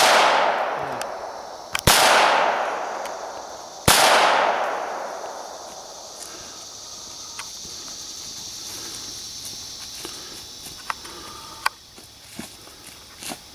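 Three sharp handgun shots ring out at a target range, the first two close together near the start and a third a couple of seconds later, each with a long decaying echo, followed by faint clicks and handling noises.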